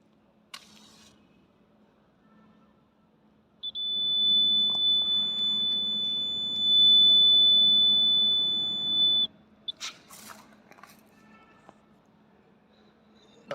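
A fire alarm buzzer, triggered by an IR sensor, sounds a high, steady electronic tone continuously for about six seconds over a low hum, then cuts off abruptly, followed by faint clicks.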